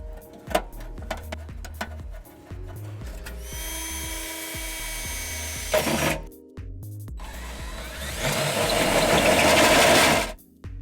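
Power drill boring holes into the frame of a 2018 Honda Accord for a trailer hitch install, with close whirring runs in two longer bursts among scattered clanks and handling noises.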